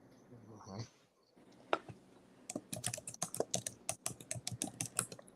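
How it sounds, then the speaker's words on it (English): Someone types quickly on a computer keyboard, producing a close, rapid stream of sharp clicks after a brief quiet pause, with no talking. "I'm typing the words in the chat"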